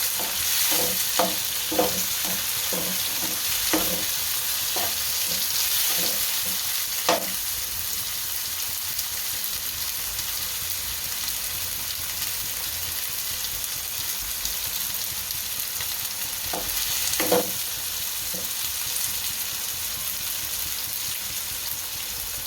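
Tomatoes fry in a pan for Punjabi poha with a steady, close sizzle throughout, broken by quick clinks of a spoon stirring in the first few seconds and again briefly later on.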